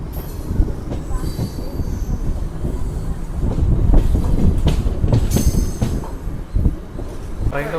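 A passenger train pulls out of Anantapur heading toward KSR Bengaluru, its carriages rumbling loudly with rhythmic wheel clatter and brief squeals of wheels on the rails, heard from on board.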